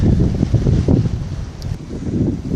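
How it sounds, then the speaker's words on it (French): Strong wind buffeting a microphone at Port Est, Réunion, making a loud, gusty low rumble that surges and eases throughout, with no speech. "il y a beaucoup de vent"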